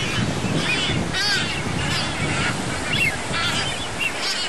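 Raucous seabirds, including boobies, swallow-tailed gulls, tropicbirds and frigatebirds, honk and squawk in bursts over the steady roar of surf and wind buffeting the microphone.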